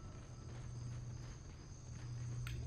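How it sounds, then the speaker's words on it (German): A steady chirping of crickets or grasshoppers rings through the background ambience of the sci-fi horror game Dead Space, faint and continuous beneath a low hum, with no voices. "Dieses Heuschrecken oder Grillen zirpen"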